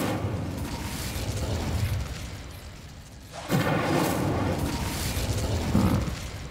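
An Incendiary spell explodes in the video game Hogwarts Legacy with a sudden, loud whooshing burst midway through, set against a dense, steady game soundscape that rumbles on before and after.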